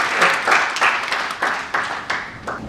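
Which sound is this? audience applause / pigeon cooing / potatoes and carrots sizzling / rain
audience applause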